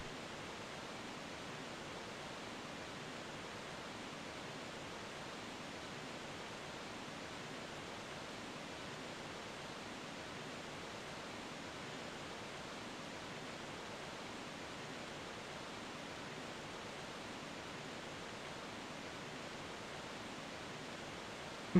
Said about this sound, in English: Enjoy the nice waterfall noises as we